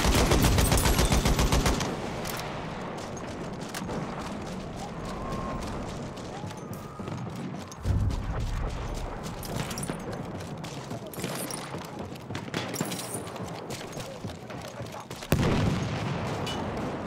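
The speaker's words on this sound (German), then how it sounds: "Granate ist raus." Battlefield 1 combat: a loud blast at the start, then steady rattling gunfire near and far, with more heavy explosions punching through midway and near the end.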